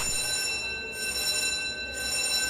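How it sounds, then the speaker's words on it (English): A fire alarm rings steadily with a bright, sustained electronic tone, briefly cutting out twice before resuming, heard amid the rumble of a train setting. "And that's a fire alarm."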